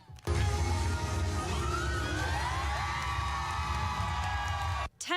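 Crowd cheering and whooping at a community street festival in a Dayton park with entertainers, a loud, dense roar of shouts and voices sustained for about five seconds, then cutting off abruptly.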